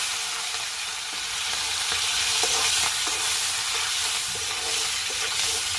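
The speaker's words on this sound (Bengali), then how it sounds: "চিংড়ি মাছটি দিচ্ছি।" Shrimp frying in a pan while being stirred, a dense continuous sizzle and hiss with soft scraping strokes, fairly loud and close with no voices.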